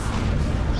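In the video game Hogwarts Legacy, a Confringo fire spell lands as a short, loud, booming blast lasting under a second, with no speech over it.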